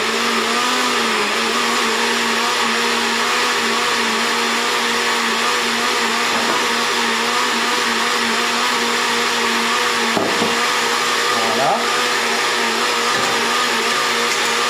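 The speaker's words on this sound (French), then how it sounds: "Bon, donc, je vais blender tout ça. Je démarre doucement." Electric blender whirring through tomato sauce in a loud, steady motor drone that lasts the whole time, with slight shifts in pitch as the contents churn.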